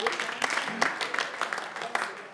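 Comedy club audience applauding during a stand-up show in Douala, a brief burst of crowd clapping with scattered sharp claps, heard with a voice speaking over it.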